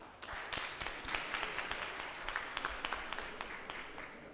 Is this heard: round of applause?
yes